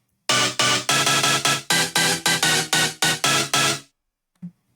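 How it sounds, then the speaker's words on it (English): A traditional rave stab layer from the Rave Generator 2 synth plugin hits in a quick rhythmic pattern of about a dozen bright, buzzy chord stabs, each cut short, loud and up front, ending in silence with one faint later blip. "which is like your traditional rave stab layer."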